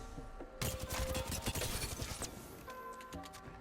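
Volt SMG fired in Apex Legends: a dense, steady burst of rapid automatic shots, loud and close, running about two seconds before cutting off, with quieter game sounds before and after.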